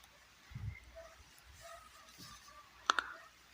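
A computer mouse clicks on a Next button, a quick pair of sharp, close clicks late in an otherwise quiet stretch.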